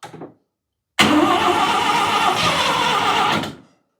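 A rotary car engine cranks and catches, running roughly and loudly for a couple of seconds before cutting off abruptly; a brief faint noise precedes it.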